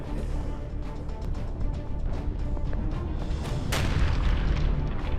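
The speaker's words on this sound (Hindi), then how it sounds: "सुरंग में छिपे हमास के लड़ाकों पर हमला किया है इजरायल की सेना ने। चुन चुन कर धमाके किए जा रहे हैं।" Explosions from Israeli army strikes on Hamas fighters hiding in tunnels, a dense, loud rumble of repeated booming blasts with one sharp crack near the middle, sustained throughout with no talk.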